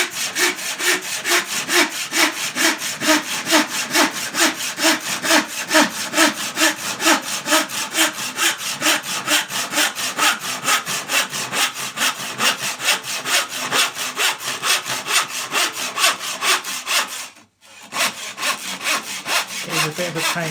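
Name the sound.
hand saw cutting IKEA VOXTORP gloss end panel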